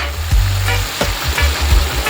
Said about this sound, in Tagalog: ilagay natin yung patatas. Halo na natin yung patatas.